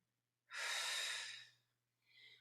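A single strong, close exhale from someone doing a wall slide with a resistance band, a breathy rush of about a second, then a short softer breath after a pause.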